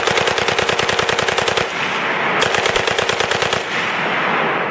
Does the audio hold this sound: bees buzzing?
no